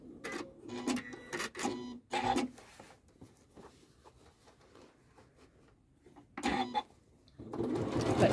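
A Janome sewing machine stitching curves with twin needles through variegated thread, its motor whirring in close bursts that start and stop, with quiet pauses between runs.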